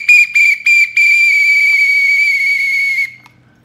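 A pea whistle blown close and loud: three short sharp blasts followed by one long sustained trill lasting about two seconds, then silence.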